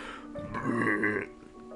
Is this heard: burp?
yes